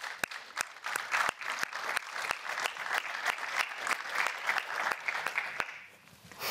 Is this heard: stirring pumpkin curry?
no